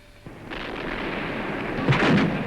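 Depth charges explode around the submarine Casabianca, a deep rolling boom that swells and rumbles for over two seconds, heavy and muffled with no talk.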